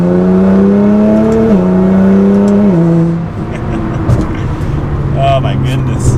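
A Nissan GT-R making 600 wheel horsepower accelerates hard through several gear changes, its engine note rising and dropping at each shift, then easing off to a lower rumble with faint pops.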